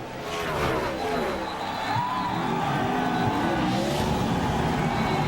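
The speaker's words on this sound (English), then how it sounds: "Look at Harvick sliding sideways." Race car engines roar nearby with tire squeal and skidding as a stock car slides sideways on a road course in Quebec, while a voice talks over the steady motor noise.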